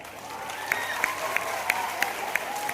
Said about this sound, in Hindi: तालियां बजाएं भाई आपके लिए।